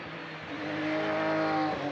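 A GT race car running on track during qualifying at Monza, its engine note climbing steadily as it accelerates, fairly distant and continuous with no talk.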